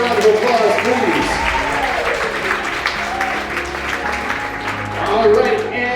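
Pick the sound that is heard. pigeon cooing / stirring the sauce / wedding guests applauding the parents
wedding guests applauding the parents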